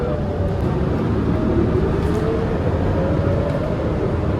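Loud, steady engine drone and road rumble fill the cabin of a long-distance Michigan bus at sunset, with a rattly seat adding to the constant vehicle noise heard from inside.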